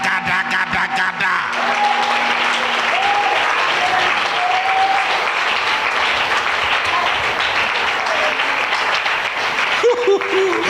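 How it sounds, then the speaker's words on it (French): A church congregation applauds and cheers for the Lord: loud, sustained clapping from a large crowd, with voices and shouts mixed in. "Acclamons pour le Seigneur."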